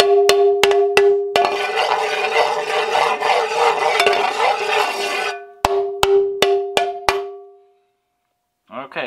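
A metal scraper strikes a granite-coated nonstick pan several times in sharp ringing clangs, with a rough scraping stretch in between, then fades to silence.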